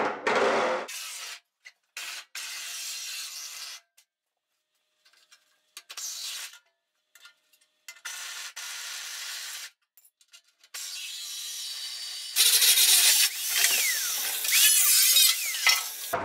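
Metal frame rails cut from a Miata front subframe, heard as intermittent bursts of rasping, grinding cuts separated by pauses, building into a longer, louder continuous cutting stretch toward the end.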